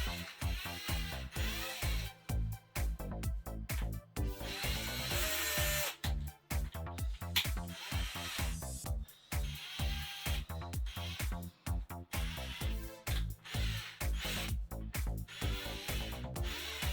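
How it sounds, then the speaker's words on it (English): A small power drill grinds excess plastic off an RC car shock part in short, repeated bursts with brief pauses between them, close and loud with no speech. "Drill the excess plastic off."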